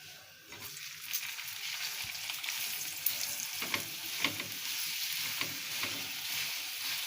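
A steady, close sizzle of a paratha frying in ghee on a hot tawa, a continuous crackling hiss with a few light scrapes and no voices.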